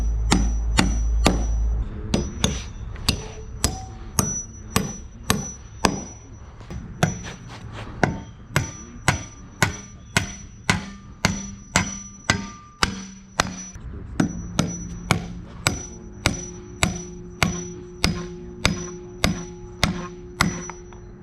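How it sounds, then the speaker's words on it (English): Hammer driving galvanized nails through steel post bracket plates into timber girders, a steady series of sharp, ringing metallic blows repeated roughly every half second, close and loud with no talk. "Now I'm going to install the posts into their brackets and nail them to the girders."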